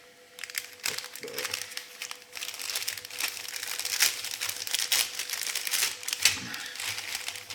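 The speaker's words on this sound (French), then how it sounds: "je vais prendre mon petit ciseau, donc on va ouvrir ça" The plastic bag of a Revell 1/25 Mitsubishi Eclipse model kit is snipped open with small scissors and handled, giving close, irregular crinkling and rustling that builds into a busy, papery crackle with a few sharper crunches.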